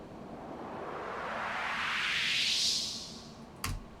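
A synth sound with its modulation cycling faster swells in a bright noisy sweep that rises and then fades, quiet and alone, ending with a brief click.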